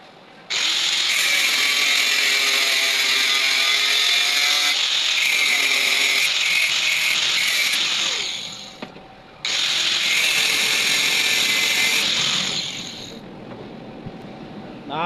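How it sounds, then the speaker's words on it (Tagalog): An angle grinder cuts through steel slotted angle for a pharmacy shelving rack, giving two loud sustained bursts of high-pitched metal grinding with a short pause between them, then winding down to a quieter idle. "mas mainam po itong ganito paghawak ng grinder pag nagputol kayo ng bakal"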